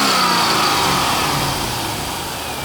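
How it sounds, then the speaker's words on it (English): Engine noise from a 1999 C5 Corvette's Chevrolet LS1 V8 on an automatic, in top shape with no knocks or ticks. It holds a steady, loud roar with no clear rev peaks, easing slightly toward the end, and no talk. "Go ahead and rev it up."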